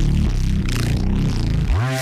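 A dirty neurofunk reese bass synth, a loud, thick and gritty sustained bass tone that rumbles continuously before sliding sharply downward in pitch near the end.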